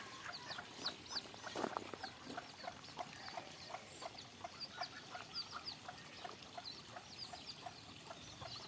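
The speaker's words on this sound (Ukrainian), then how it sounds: "Є троє курчаток, бачите." Small chicks peep in quick, high, overlapping chirps that continue throughout, with a light trickling sound in the background, in a park in spring.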